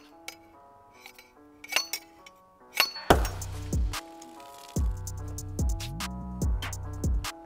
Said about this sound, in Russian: Да придется открыть шампусик, мачете.